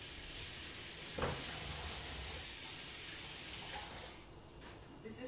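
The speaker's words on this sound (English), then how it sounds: "And then I'm just gonna wash my hands very quickly." Tap water runs steadily while hands are washed under it in a home kitchen, a continuous broadband hiss with a brief splash near the start and fainter shifts later; no one speaks.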